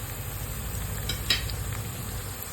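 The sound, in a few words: potatoes frying for sabudana khichdi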